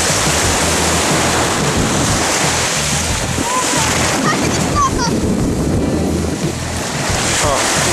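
Sea waves surge and break at a beach in a continuous loud wash, with strong wind noise on the microphone throughout.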